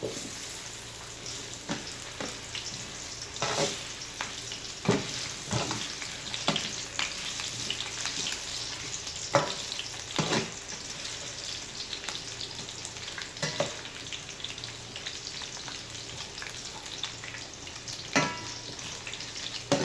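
Potatoes fry in a pan with a steady sizzle, and scattered stirring scrapes and clatters break in every second or two. No voices are heard.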